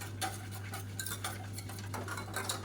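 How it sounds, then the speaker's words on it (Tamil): A spoon scrapes and clinks against a pot while a weight-gain porridge (kanji) mix is stirred, a run of light, irregular taps and scrapes over a steady low hum, with no talking. "இப்போ அதை நல்லா மிக்ஸ் பண்ணி விட்டுக்கலாம்."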